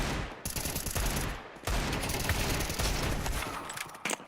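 Rapid bursts of gunfire from a Counter-Strike match, loud and dense, fired in continuous volleys with a brief break partway through and more shots at the end.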